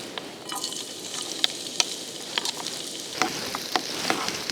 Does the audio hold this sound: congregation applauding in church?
no